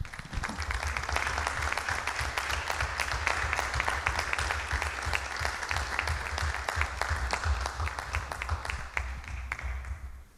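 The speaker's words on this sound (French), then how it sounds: "Et puis je pense qu'on peut vous applaudir." Sustained applause from the attendees of a municipal council meeting in Luçon, a dense, steady patter of many hands clapping for about ten seconds before tapering off at the end.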